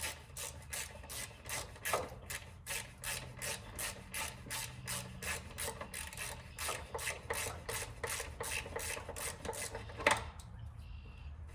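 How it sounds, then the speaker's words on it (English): Quarter-inch drive ratchet backing out starter bolts on a five-speed Ford Ranger with a 5.0 engine, a rapid rhythmic clicking in bursts of strokes, fairly close and quiet, with no talking. "I'm just using a little 1/4-inch drive on these."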